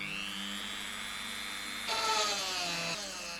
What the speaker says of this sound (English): I have to use a hand drill to make the holes much bigger to fit those flanged nuts